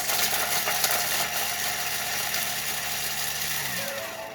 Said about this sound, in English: turn speed selector to 7. Bang. Now we're just blitzing that.